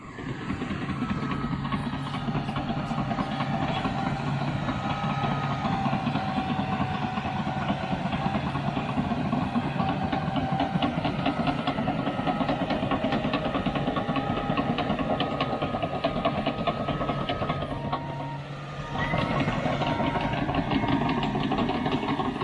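CAT D6 bulldozer diesel engine running steadily, a loud continuous rumble that dips briefly near the end, heard alone without talk.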